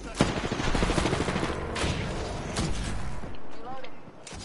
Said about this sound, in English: Oh, someone else shooting.